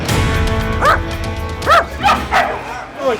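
A giant pit bull lets out a run of short, loud barks and yips close by, several in quick succession, with voices in the background.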